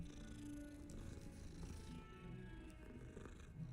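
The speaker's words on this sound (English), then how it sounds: "And they purr when you pet them, which is the best." A cat in Hogwarts Legacy purrs as it is petted, a steady, soft, continuous rumbling purr that runs throughout, without any talking.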